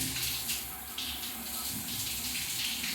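A hand shower fed by a pressure pump sprays water at full pressure, giving a loud, steady, close rushing hiss with no pauses.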